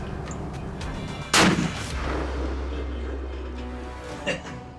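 A single loud rifle shot fired at a whitetail buck during a cold-weather Iowa hunt cracks sharply and rolls off into a fading rumble, with outdoor ambience around it.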